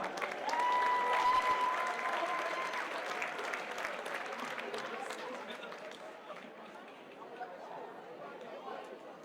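Audience at a high school Hispanic Heritage assembly applauds a Danza Azteca dance group, a broad wash of clapping and crowd chatter that starts loud and gradually thins over several seconds, with voices mixed in.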